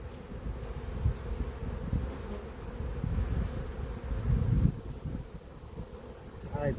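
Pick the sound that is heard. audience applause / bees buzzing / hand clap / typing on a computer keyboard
bees buzzing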